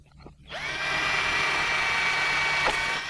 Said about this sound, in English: as I drilled through, it pushed through quite quickly